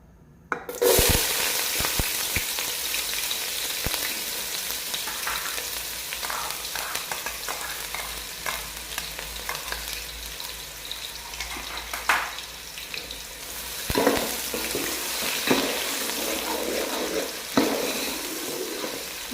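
Chopped onion frying in hot oil in a pot, with a sudden loud sizzle burst as it goes in, then a continuous hiss and crackle with occasional stirring scrapes and clinks, nearby and moderately loud.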